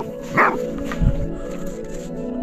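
A dog on a mountain hike near Vârful Ineu, heard as two short barks in the background, the first sharper and the second lower, over quiet outdoor ambience.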